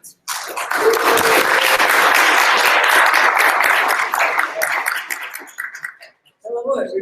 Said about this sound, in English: We can do a round of applause from Team 1 for hosting this event.